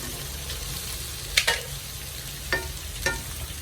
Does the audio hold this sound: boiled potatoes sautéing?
yes